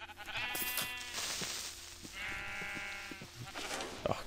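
Sheep in the video game Minecraft bleat twice, two clear wavering calls about a second apart, close and loud over a steady low game background with no talk.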